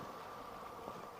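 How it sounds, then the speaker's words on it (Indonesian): A steady, dense buzz from a swarm of honeybees during beekeeping, continuous and fairly faint with no voices. "dengan cara itu tadi saya berhasil ya untuk menjinakkan lebah"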